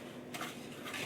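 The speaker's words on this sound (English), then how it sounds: "I'm just going to basically whisk it all together" Whisk stirring baking soda into dry ingredients for banana bread in a mixing bowl, a steady close scraping and clinking of metal against the bowl with brighter bursts of rattling, no voices.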